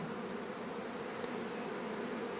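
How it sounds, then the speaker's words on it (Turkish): Chestnut honey bees hum in a dense, steady buzz at the hive entrance landing board, continuous and even with no voices. "son bir gayretle uçma tahtasına geliyor arı böyle"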